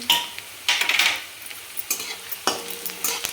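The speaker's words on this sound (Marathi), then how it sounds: "त्याला चांगलं दोन मिनिट परतून घ्यायचं" Cut green chillies sautéing in a pan with onion, a spatula scraping and tossing in several separate strokes over a gentle sizzle, close and moderately loud.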